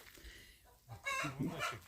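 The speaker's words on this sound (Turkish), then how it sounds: "İki tane horoz var" One of two village roosters clucks and calls loudly in the second half, the larger one chasing the smaller, following quieter farmyard background noise with faint ambient sounds.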